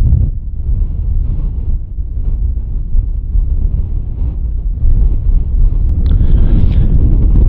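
Strong wind of about 45 mph roars and buffets across an open golf course, a loud, constant gusting rush hitting the microphone, with no voices.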